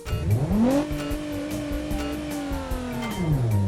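A modified minivan tears around a race track on a hot lap, its engine revving hard through the gears with a sustained high drone, then downshifting and winding back up as tires squeal, heard close from inside.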